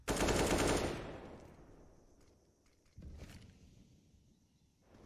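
A loud automatic-weapon burst rings out in a Counter-Strike: Global Offensive pro match, Mibr vs Liquid at IEM Dallas 2022. The burst fades into a quieter tail, and a second, fainter burst of shots follows a few seconds later.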